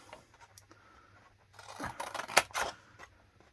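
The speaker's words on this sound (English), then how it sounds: "I'm going to use my bigger scissors," Large scissors snipping through patterned craft paper for a card project, a quiet start followed by a few close, crisp rasping cuts that build in loudness, with no talking.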